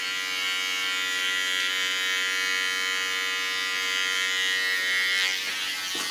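An electric hair clipper hums in a constant close buzz as it trims along a neckline, with a faint change in tone near the end as the blade shifts against the hair.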